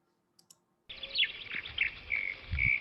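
After a couple of faint clicks, a recorded mockingbird sings continuously, a varied string of bright chirps, trills and whistled phrases mimicking other birds, moderately loud with some low rumbling noise at the end.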